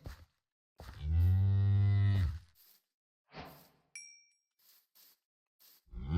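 Blocky cows in the Minecraft video game let out a long, loud moo with a few shorter bovine grunts after it, with a brief clink of game sound effects in between.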